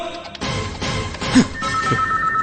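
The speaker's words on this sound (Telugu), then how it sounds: "ఫోన్ వచ్చింది" A telephone rings with a steady electronic tone over a low background murmur.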